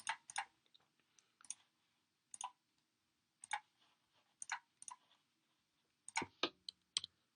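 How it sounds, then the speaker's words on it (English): Keys tapped on a computer keyboard while entering a Wi-Fi password, a sparse run of light clicks in small bursts with pauses between them, close and quiet with no talk. "go ahead and type in the password and connect"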